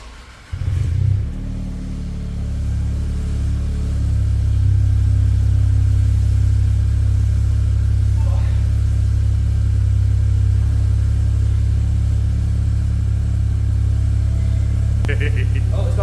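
An Audi A3 8v with a 1-litre engine and modified exhaust, starting up then settling into a loud, steady deep idle rumble close by, with a brief blip of revs near the end.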